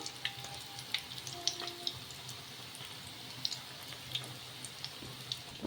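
Moong dal fritters sizzling in hot oil in a pan, a soft, steady crackle with scattered little pops throughout, fairly quiet and with no talking.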